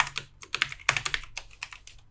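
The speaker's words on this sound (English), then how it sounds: "And my typing is so bad." Rapid, uneven typing on a computer keyboard while coding, close and crisp, with clustered key clicks and one sharper strike, no voices.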